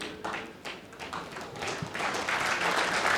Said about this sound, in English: Well, the crowd are clapping